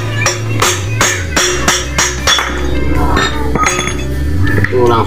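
A wheel bearing race is pounded out with a large axle shaft, giving a rapid series of loud, ringing metallic clanks at close range, repeated strike after strike without pause.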